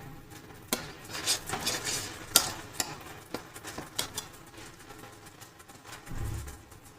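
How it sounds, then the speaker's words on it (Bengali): Kashmiri red chilli masala is stirred and sautéed with water in a pan, a spoon scraping and clinking in irregular, close taps against the metal, with a soft wet sizzle underneath. "এইবারে এটাকে আস্তে আস্তে জল দিয়ে ভালো করে কষতে থাকবো"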